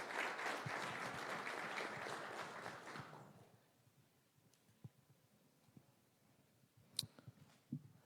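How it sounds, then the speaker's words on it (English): Guests at a business launch event give a burst of applause that fades after about three seconds, leaving a quiet room with a few faint clicks and knocks. "A round of applause, ladies and gentlemen."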